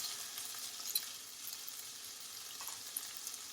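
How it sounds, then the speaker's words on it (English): Shrimp searing in a pan during shrimp and grits preparation, a steady close hiss of sizzling oil with a few small pops and clinks, no talking. "we're going to go ahead and have our shrimp cooking here"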